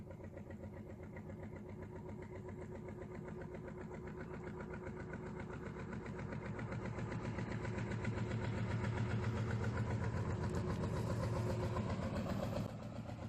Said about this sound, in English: I do love the sound that these old boats make.